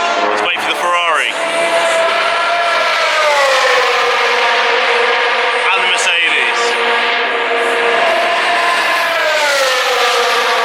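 A Ferrari Formula 1 car passes during pre-season testing, its high engine whine rising and sweeping past with gear-change shifts, loud and sustained over ten seconds with background crowd noise and another car audible early on.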